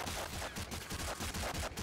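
Rapid gunfire in the video game Warframe, a dense continuous burst of shots filling the short moment, loud and close, no talking.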